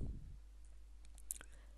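Faint computer mouse clicks come through during video editing work in Pinnacle Studio: a few soft, isolated ticks spaced apart over a low steady background hum.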